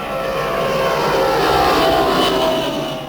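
A model plane's propeller engine drones loudly and continuously overhead, swelling slightly in the middle and then easing off. It is a steady buzzing whine with no voices over it.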